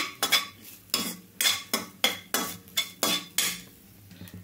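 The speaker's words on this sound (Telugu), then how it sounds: "చూడండి, ఇట్లా కలుపుతానైతే వేయించుకోవాలండి." Grated coconut stirred and fried in ghee, a spoon scraping the pan in about nine crisp strokes at a steady rhythm, close and clear, with no talking.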